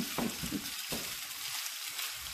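Shrimp fried rice frying in oil in a pan, a steady dense sizzle with some stirring scrapes, close and continuous throughout.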